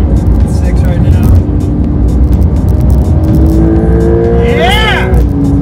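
A Porsche 911 Carrera S engine roars at high revs, a loud rising note that swells and drops with possible tire squeal, heard under and between excited talking.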